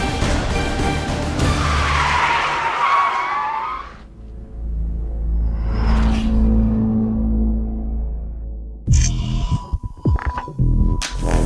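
BMW E30 M3 out on a race track, engine roaring past with a tire-skid swell, then a steady throbbing hum as it drives on, ending in choppy, rapid engine bursts up close.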